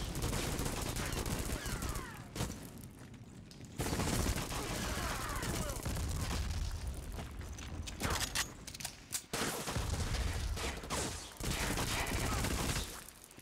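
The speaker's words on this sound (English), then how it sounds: "I like the way this gun sounds when I have it suppressed." Suppressed gunfire from the shooter game Black in a level set at Tivliz Asylum, a dense sustained fusillade of muffled shots with brief pauses, loud and close throughout.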